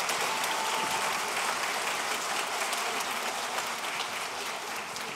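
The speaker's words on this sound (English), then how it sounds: "can we please give them a round of applause?" A school pop show audience at a middle school claps in a steady, dense round of applause that fills the room for several seconds, holding strong throughout and easing only slightly near the end.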